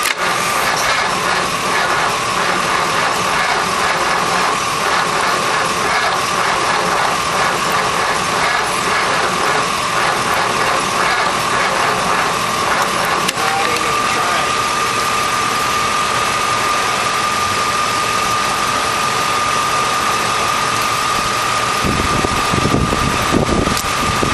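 A Chrysler 331 poly V8 that sat for about 30 years cranks on old gasoline, a loud, continuous mechanical churning that holds steady for the whole stretch, with no catch or idle.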